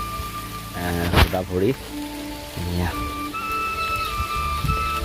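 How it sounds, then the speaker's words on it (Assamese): Light drizzle falls on the green, tree-lined grounds of Auniati Satra in Majuli, Assam, a soft, continuous patter beneath a person talking nearby. "বৰষুণ দি আছে চিপ চিপকৈ"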